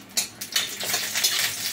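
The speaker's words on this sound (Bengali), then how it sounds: "শুকনো লঙ্কাটা একটু ভাজা ভাজা" Dried red chilies frying in a little oil in a pan give off a steady, close, hissing sizzle, with a few light clinks of the utensil against the pan.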